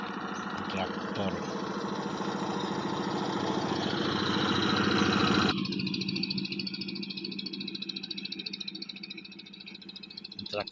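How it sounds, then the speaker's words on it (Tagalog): A tractor engine runs at a rice field in Nueva Ecija during the dry season, a steady rattling chug that shifts abruptly partway through, continuing at a lighter, pulsing idle. "Traktor."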